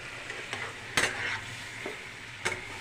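Green, dry and Kashmiri chillies sizzle softly in a pan while a utensil stirs them, giving a few scraping strokes over a quiet, steady frying hiss close by.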